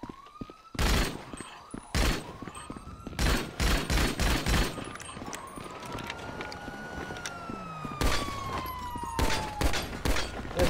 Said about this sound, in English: I was gonna shoot the cops now.